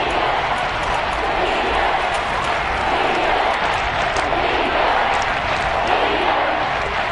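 A Kansas City stadium crowd in the football video game Madden 23 keeps up a dense, steady roar throughout, loud and continuous, with faint voices mixed in.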